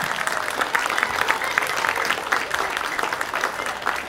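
Steady applause from an audience at a school graduation dance, dense rapid clapping filling the whole stretch at an even, moderately loud level without letting up.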